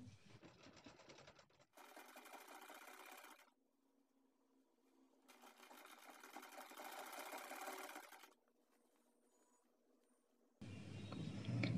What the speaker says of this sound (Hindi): मैं नीचे से स्टार्ट करके आपको सिलाई दिखाती हूँ